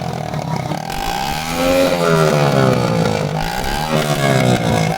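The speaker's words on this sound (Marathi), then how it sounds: "फक्त सायलेन्सरचा आवाज बघा तुम्ही आता." An old, loud silencer on a Hero Splendor motorcycle gives a continuous, rough engine exhaust drone that rises and falls with revving, close and loud throughout, with no talking.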